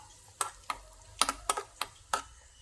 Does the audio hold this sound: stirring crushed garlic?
yes